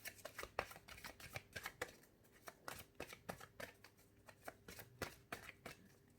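A deck of tarot cards is shuffled in a series of quick, crisp riffling and snapping bursts, close and fairly quiet, with no talking.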